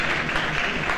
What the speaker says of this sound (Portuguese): Então, salva de palmas a Portugal.